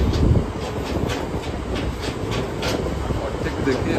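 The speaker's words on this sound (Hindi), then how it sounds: "अभी प्रेजेंट टाइम देखिए 72 की स्पीड से चल रही है" A passenger train runs at 72 km/h between Shahganj and Akbarpur junctions, its wheels clicking rhythmically over rail joints beneath a steady rumbling roar, heard from close by on board.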